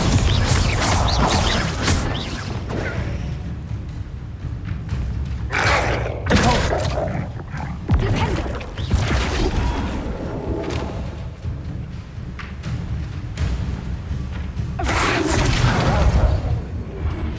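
Repeated Bombarda blasting spells go off in Hogwarts Legacy, loud booming thuds and crashes recurring through the fight over a steady rumble of game sound, with no one talking.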